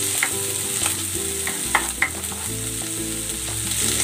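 Garlic and onion sauté in hot oil in a pan, a loud, close, continuous sizzle with scattered scraping and stirring clicks and no voices.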